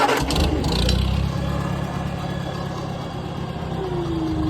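An IH Farmall 140 tractor's engine runs steadily close by, a continuous low rumble with a few louder knocks at the start, with a fast hitch brush hog attached.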